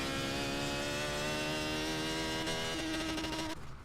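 A VW Type 3 sleeper with a 700+ hp engine revs hard in Forza Motorsport 7, a loud, sustained buzzing drone that shifts pitch as the revs climb and then cuts off abruptly near the end, with no talking.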